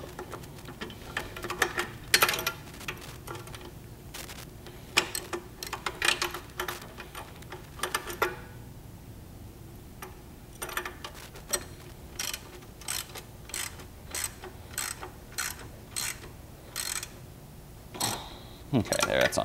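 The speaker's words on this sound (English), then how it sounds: "pick back up your wrenches, hold it in place, flip the socket setting, and turn clockwise until it starts getting really tight." Socket wrench ratcheting while tightening a bolt on a Scotts Classic reel mower, giving bursts of sharp clicking in short runs, close and fairly quiet, with pauses between strokes and a quicker run of evenly spaced clicks toward the end.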